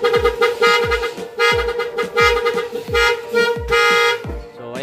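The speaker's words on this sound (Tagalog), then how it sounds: "So ayan yung ating busina" Repeated short horn toots from an electric mini jeepney honk in a rough rhythm, loud and close, with brief gaps between bursts and a longer blast near the end.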